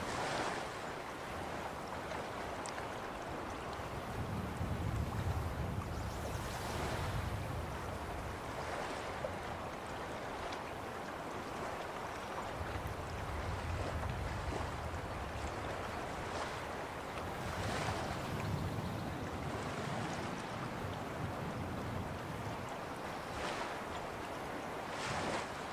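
Arctic sea water in a winter video game, a steady rolling wash of waves with periodic swells and a windy hiss throughout, no talking.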